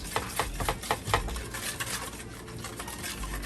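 A whisk beats a sugar mixture in a bowl with rapid, rhythmic scraping and clinking strokes, close and moderately loud, with no talk.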